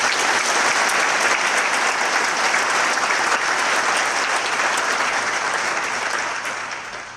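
An audience claps steadily and loudly, welcoming a speaker at a white coat ceremony for the Lake Erie College of Osteopathic Medicine in Erie, with the sustained applause easing off toward the end.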